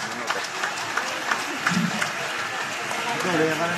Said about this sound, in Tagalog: nabigyan natin ng malakas na palakpak ang mananatiling senador ng bansang Pilipinas